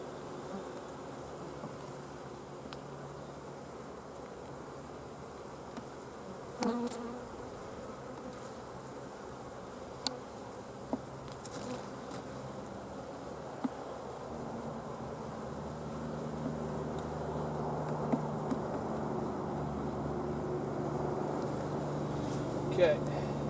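Honey bees buzz steadily around an open beehive during hive work, a continuous close drone with a few sharp knocks and scrapes of the hive being opened, and a voice talks quietly now and then.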